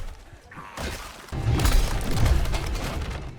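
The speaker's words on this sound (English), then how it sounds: "smashing a window to break into a car will make it less secure if zombies attack" A car window smashed in a survival video game, one sharp glass shatter followed by a loud crunching spray of falling shards, close and alone without talk.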